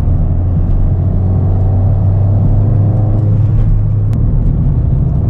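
A Ford Fiesta ST200 engine accelerates on country roads, a loud, close, steady rumbling drone that rises gently in pitch, heard from inside the car with no talking.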